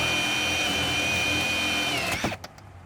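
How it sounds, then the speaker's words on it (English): A 1-inch hole saw driven by a power drill cuts through boat gel coat, a loud steady whine that winds down with a clatter as it breaks through. "use it in forward and go ahead and cut your hole"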